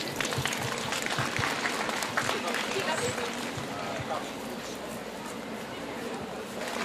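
A festival crowd at the Heinola summer opening event applauds steadily, a dense continuous clatter of clapping that holds at an even level throughout.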